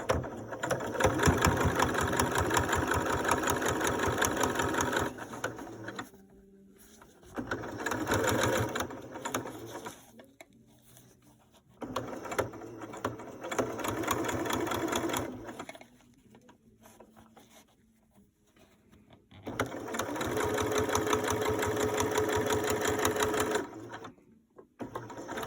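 A sewing machine stitches the top and bottom seams of a fabric face mask. Its steady, rapid, close mechanical chatter runs in long stretches, broken by brief pauses for readjusting.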